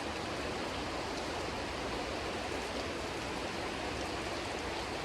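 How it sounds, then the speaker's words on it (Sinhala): Rainwater rushes steadily across a village road like a stream, a dense, even wash of flowing water that holds constant throughout. "මෙන්න මේ හරියෙන් තමයි මුලින්ම පාරට වතුර එන්නේ"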